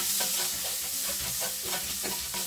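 Garlic sautés in leftover frying oil for a mung bean soup, producing a close, continuous sizzle with soft rhythmic stirring, alone without talk.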